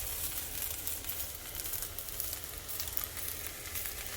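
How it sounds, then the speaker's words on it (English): Dried guajillo chiles toast and char on a hot griddle, giving a steady, close crackling sizzle with faint pops throughout and no talking. "I'm going to toast these and get some charring on the exterior."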